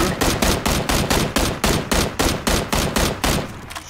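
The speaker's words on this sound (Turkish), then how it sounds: "Adam çok dehşet sıkıyor." Automatic gunfire from the battle royale game PUBG rattles in a rapid, evenly spaced burst of about fifteen sharp shots over roughly four seconds, loud and close with no talk.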